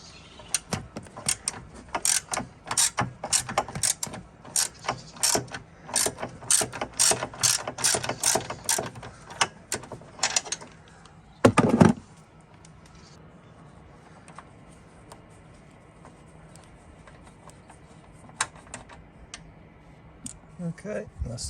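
Ratchet wrench undoing stud nuts under the driver's seat of a Fiat Ducato motorhome: rapid, close clicking bursts for about ten seconds, a sharp clatter near twelve seconds, then quieter occasional ticks.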